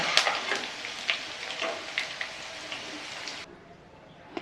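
Garlic frying in hot oil for a Tamil mixture snack, a steady crackling sizzle with small pops that stops abruptly near the end, leaving quiet.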